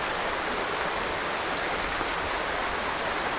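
River water in a jungle national park on Ko Chang flows in a constant, dense hiss-and-rush of moderate loudness, steady throughout with no voices.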